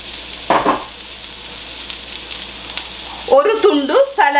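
Carrot is stir-fried for Singapore-style noodles, a loud close sizzle with brief bursts of tossing and stirring in the pan, and a voice speaks near the end.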